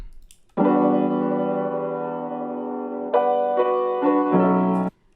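A sustained synth keys chord rings out steadily, then several chord changes follow in quick succession before it stops abruptly.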